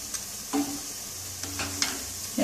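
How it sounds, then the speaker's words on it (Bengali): Potato chops deep-fry in oil with a soft, even sizzle and a few light clinks of a utensil. "লাল লাল করে ভেজে তুলতে হবে"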